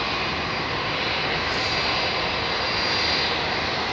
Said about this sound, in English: Oman Airways 787 lining up over there.